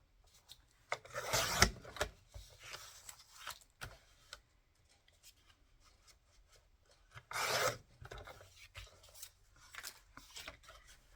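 A paper trimmer slices paper for a journal page, giving two distinct rasping cuts about six seconds apart, each followed by lighter scraping and shuffling handling sounds, close and moderately quiet.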